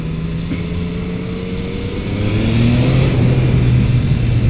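A 2015 Yamaha MT-09 motorcycle engine hums steadily while riding, then rises in pitch and volume as it pulls harder, with continuous road and wind noise beneath it.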